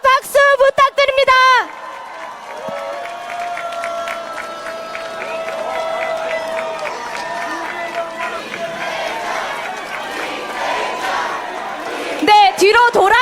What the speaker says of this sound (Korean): 뜨거운 함성과 박수 부탁드립니다.